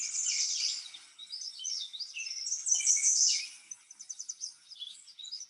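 Several birds chirp and trill in quick, high overlapping phrases, fairly close and clear, with no talking or other noise underneath.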